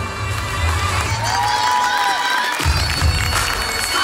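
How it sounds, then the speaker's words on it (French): A crowd claps and cheers at a business awards presentation for couples reaching a Chairman's Bonus level, steady and loud throughout with scattered shouts and voices mixed in. "Applaudissez-les s'il vous plaît"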